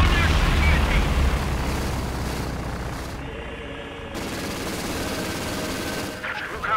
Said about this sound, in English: Stuka will strafe the enemy